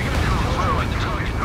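A fighter jet attack in the Ace Combat 7 video game sets off a dense, continuous roar of explosions with rumbling blasts. A voice is faintly audible within the din.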